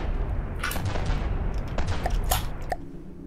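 Ship guns fire in a From the Depths naval battle as a dense run of booming shots and cracks, several sharp reports standing out over a constant low rumble.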